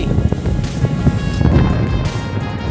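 Strong wind buffeting the microphone at a high viewpoint over Laguna Lake, loud gusty rumbling that rises and falls in surges.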